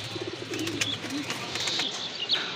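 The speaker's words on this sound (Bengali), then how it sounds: "আরেক জোড়া কবুতর দেখতে পাচ্ছেন, খুবই সুন্দর।" Pigeons cooing at a pigeon farm that sells local and foreign breeds: soft, low, repeated coos with a few faint chirps over a steady background hum.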